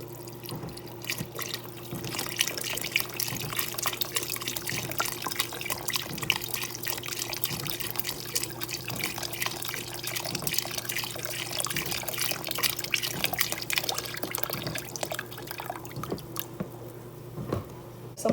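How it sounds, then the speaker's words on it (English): Beef broth pours from a carton into a cooking pot, a steady liquid splashing and gurgling stream that runs continuously at close range, with no talking. "So that's 1 carton of beef broth. I'm gonna go ahead and add in the other one."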